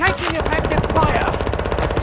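Rapid automatic gunfire from a video game firefight, a fast rattling burst of shots repeating steadily and close, with a brief game voice line heard at the start.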